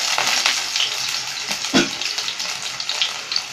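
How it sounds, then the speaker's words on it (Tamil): Garlic dropped into hot oil for cauliflower Manchurian, a brief hissing sizzle with a sharp thump midway, close and fairly loud without speech. "எண்ணெய் சூடாக இருக்குது, முதல்ல நம்ம பூண்டு ஆட் பண்ணிக்கலாம்"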